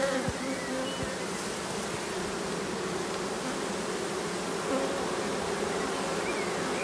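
A honeybee production colony hums with a dense, continuous buzz from many bees, steady and fairly close throughout, with no voices over it.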